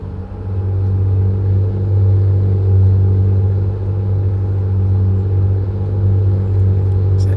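A heavy truck engine in American Truck Simulator rumbles steadily and loudly with a deep, constant drone that holds at an even level throughout, with no talk over it.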